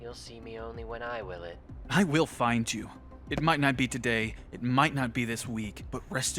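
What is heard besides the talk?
None of the usual background noises is heard.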